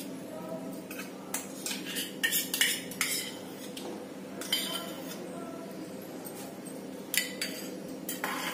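A spoon clinks and scrapes against a pan as butter is stirred into a chocolate burfi mixture, with uneven metallic taps and rattles throughout at close range.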